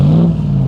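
A 2022 Ram 1500 TRX pickup's 702 hp engine revs loudly through its 5-inch exhaust tips, a steady deep rumble held close and alone for under a second.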